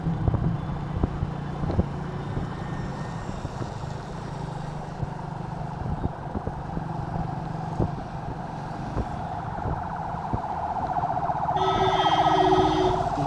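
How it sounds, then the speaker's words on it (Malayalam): An ambulance siren wails along a rainy-season city road in Thiruvananthapuram, holding steady over the hum of nearby traffic and growing slightly louder toward the end. "രാവിലെ ഒരു ആംബുലൻസ് ഉണ്ട് കേട്ടോ."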